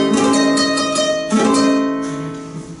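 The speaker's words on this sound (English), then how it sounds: "if I go with this chord, 9 augmented, 11 augmented, for an auxiliary dominant, it will sound like this" A dominant chord with augmented ninth and augmented eleventh rings out, struck twice with sustained, dissonant tones that decay gradually, played alone with no talking.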